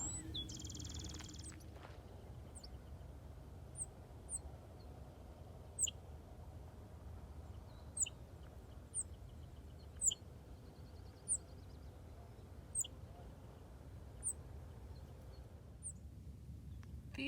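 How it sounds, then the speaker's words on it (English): Faint, sharp bird chirps repeat every second or two over a quiet, low outdoor hush on a desert trail in Catalina State Park near Tucson, Arizona. "Can you hear all the birds?"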